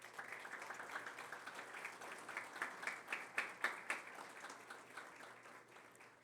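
Sustained applause from the audience at an OAB bar association ceremony celebrating Lawyers' Day, steady many-handed clapping that swells in the middle and then tapers slightly, with no talk over it.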